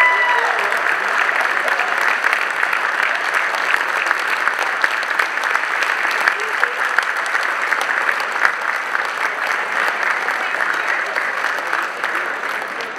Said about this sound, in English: everybody give a round of applause to the 2022 Legislator of the Year, Senator Mark Abraham